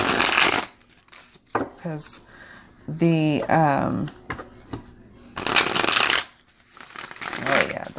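Bursts of oracle cards being riffle shuffled, a crisp fluttering whir, alternating with a person talking between the shuffles.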